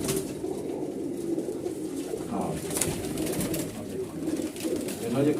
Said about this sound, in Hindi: बहुत बढ़िया कबूतर है पंजाबी।